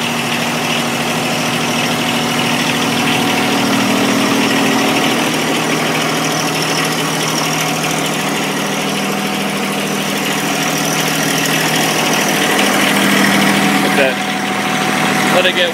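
A diesel tractor with a glow plug idles steadily while warming up on a tractor broom project, a continuous low rumbling drone with constant vibration, no voices.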